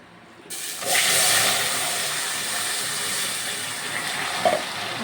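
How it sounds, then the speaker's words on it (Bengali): Water splashes into a hot pan of browned semolina halwa and sets off a loud, sudden burst of sizzling hiss. The hiss stays strong and steady, with small bubbling crackles rising and falling. "আমি এখানে এবারে অল্প করে জল ঢেলে দিচ্ছি"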